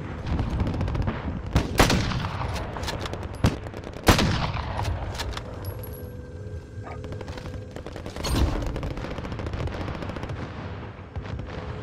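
Airstrike in Call of Duty: Modern Warfare, heavy gunfire bursts and booming artillery impacts rolling across a loud battlefield, sharp blasts near the start and middle over a constant rumble, with no talk.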